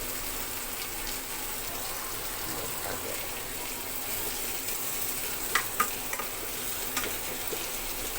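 Onions frying in a home kitchen pan, a continuous soft sizzle and hiss with a few sharper pops toward the end, fairly quiet and steady.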